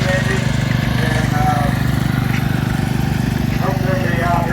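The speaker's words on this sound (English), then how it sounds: "Here come a couple of small garden tractor pullers, Cub Cadets." Two Cub Cadet garden tractor pullers run steadily with a low, throbbing drone at a restored machinery show, while people talk faintly in the background.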